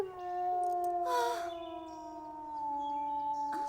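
In an animated series, a wolf lets out a long, wavering howl that slides gently down in pitch, with a brief rougher swell near the start and a short noisy burst at the end.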